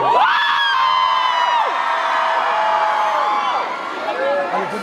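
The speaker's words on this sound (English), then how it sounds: "Let's give a warm, warm, loud round of applause" A concert crowd at an NRJ Music Tour show in Brussels cheers and whoops loudly, with long sustained shouts and yells swelling continuously for several seconds, sounding close and full.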